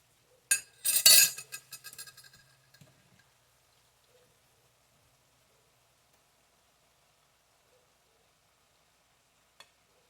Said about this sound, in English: So now what I'm going to do is I'm going to add the zucchini.